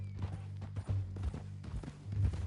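Horse hooves clip-clop at a steady walking pace in Red Dead Redemption 2, with soft rhythmic thuds over low game ambience and occasional tack and saddle creaks. No one speaks.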